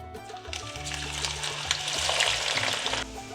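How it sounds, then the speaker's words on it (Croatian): Onion frying in hot oil, a steady close sizzle and crackle that swells and holds without talk. "dok je ulje vrelo, ja ću da stavim luk da se prži"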